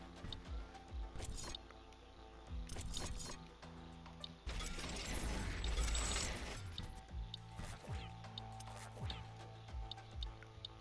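Sludge converter machinery in The Riftbreaker game, with layered mechanical clanks, ticks and pumping liquid sounds, swelling into a dense watery rush midway before settling back into rhythmic machine clatter.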